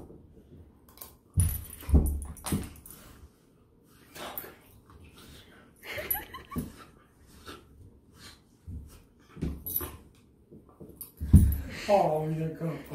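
A dog whimpers in short bursts at close range, mixed with snorts, breathing and jangling keys, while people talk over it.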